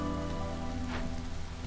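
Heavy rain in the video game Against the Storm, a dense constant patter over a low droning hum and tonal background, with a brief louder splash near the middle; no voices.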